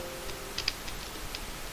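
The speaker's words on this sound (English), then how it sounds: "I can just type banner" A few light computer keyboard keystrokes while a Cisco layer 2 switch is being configured, faint irregular clicks over a quiet room hum.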